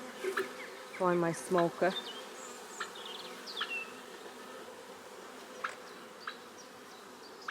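Angry honeybees drone at an open hive in a constant low buzz. Individual bees zip past close by, and a person speaks briefly over the swarm.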